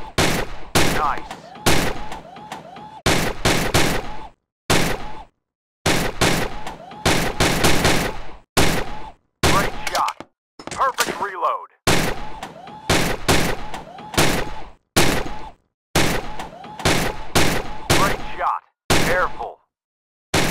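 Gunfire in the VR shooting game Gun Club VR, loud rapid volleys of shots in dense bursts separated by brief silences, with occasional short game voice callouts between them.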